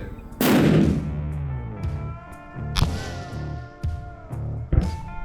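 A long-range rifle fires a cold-bore shot at a target 1,300 meters away in a long-range shooting competition: one loud sharp crack with a ringing tail, followed by smaller knocks and clatter at the range.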